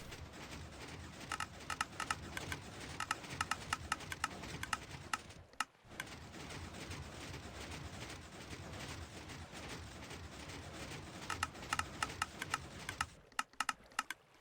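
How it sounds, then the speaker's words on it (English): Minecraft Bedrock droppers on an auto-fuel mega furnace smelter tick steadily as they push cooked items into water flowing toward a chest, a dense run of quick clicks lasting almost the whole stretch with a brief break partway. "The ticking that you're hearing is the droppers dispensing the cooked item into the water, which is leading into the chest."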